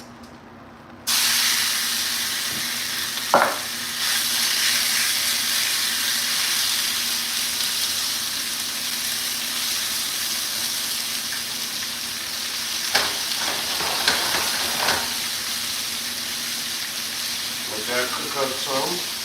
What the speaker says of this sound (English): We got our hot oil going.